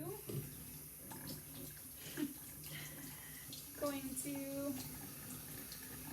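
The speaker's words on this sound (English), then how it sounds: "get my face wet" Water splashes and trickles at a bathroom sink as someone wets their face before washing with homemade face wash, soft intermittent splashes close by, under quiet talking.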